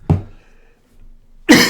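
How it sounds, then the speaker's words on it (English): Two sharp, close coughs, one at the start and another after a short pause. "now I'm coughing more than I've coughed the last 3 days on the stream"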